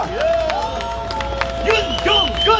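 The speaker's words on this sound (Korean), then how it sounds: "다시 한번 윤종군 국회의원님께 뜨거운 박수" An outdoor crowd at a Korean election campaign street rally claps and cheers, with whooping voices rising above the applause, loud and close throughout.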